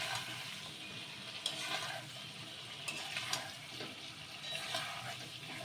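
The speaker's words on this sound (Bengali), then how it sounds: "ভালো করে আমি মশলাটাকে কষিয়ে নেব।" A tomato-chili spice paste with cumin powder fries in a wok as it is stirred, a soft continuous sizzle with occasional light scrapes and taps of the spatula.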